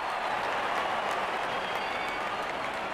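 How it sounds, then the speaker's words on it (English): A stadium crowd at an IPL cricket match between CSK and SRH applauds a batsman's fifty, producing a dense, sustained roar of clapping and cheering with no break. "Wonderful 50, and the crowd applauds"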